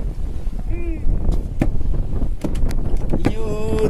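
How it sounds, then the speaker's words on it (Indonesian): Strong wind roars steadily across the microphone on a small fishing boat at sea while hunting snapper, a constant loud rush with sharp knocks and brief voices from the crew breaking through. "Angin kencang, bro."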